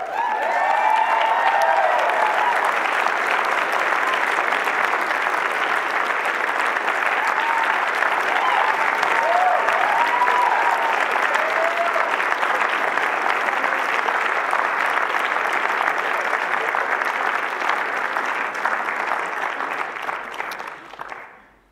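Wedding guests applaud after the bride and groom kiss, sustained loud clapping from a full room lasting around twenty seconds before trailing off.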